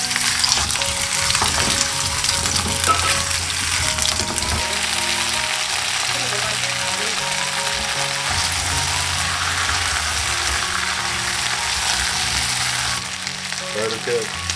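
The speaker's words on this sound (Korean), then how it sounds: "팬이 달궈지면은 감자와 양파를 넣고" Potatoes and onions stir-frying in an oiled hot pan give a loud, continuous hiss and sizzle, with occasional scraping and stirring sounds throughout.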